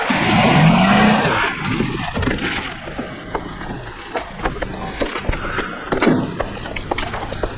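A car skids from reckless driving in a 1952 comedy, with a short tire squeal rising early, followed by clattering bumps, rattles and scattered knocks of the vehicle.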